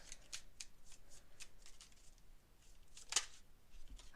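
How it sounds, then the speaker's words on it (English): Tarot cards shuffled by hand in a steady run of soft, papery riffling bursts, ending in one sharper snap as a card is pulled, close and fairly quiet with no talk. "let's pull some cards for the Divine Feminine, the feminine in us"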